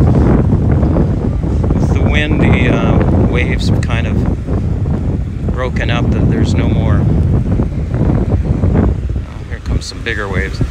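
Moderate ocean waves with no heavy surf roll in as a continuous loud wash, heavily mixed with wind buffeting the microphone, while people talk over it.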